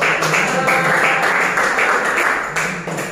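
A classroom of students claps during a teaching practice lesson, a short, loud burst of massed clapping that stays steady and then eases slightly, with voices faintly mixed in.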